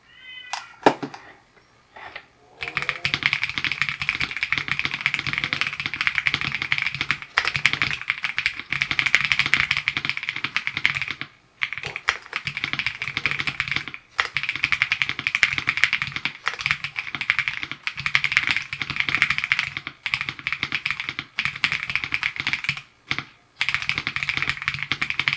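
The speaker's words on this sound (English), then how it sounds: "LEOBOG K81 with its ice crystal switches offers such a satisfying and responsive typing feel." Fast, close typing on an EPOMAKER x LEOBOG K81 mechanical keyboard with ice crystal switches, a continuous stream of crisp keystrokes broken by a few short pauses, after a brief cat-like meow at the very start.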